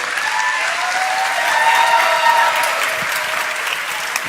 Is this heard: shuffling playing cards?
no